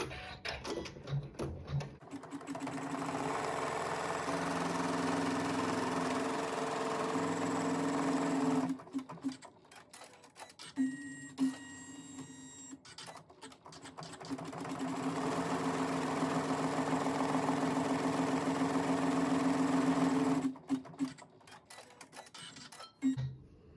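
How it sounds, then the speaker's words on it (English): Embroidery sewing machine stitching a tack-down line in matching thread, a loud rapid mechanical whir running in two long stretches with a brief clattering pause between, close and without speech. "using a thread that matches my fabric, I will sew the tack down"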